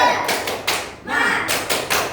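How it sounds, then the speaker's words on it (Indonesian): A group of students in an elementary classroom microteaching session clap the rhythmic "tepuk semangat" cheer, with sharp bursts of hand claps separated by short pauses, close and loud. "Ayo kita tepuk semangat 3 kali aja ya."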